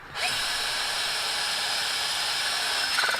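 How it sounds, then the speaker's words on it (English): A power drill whines steadily at high speed for a few seconds on a Ford Mustang with broken bolts, loud and close, with no talking. "Here comes the drilling."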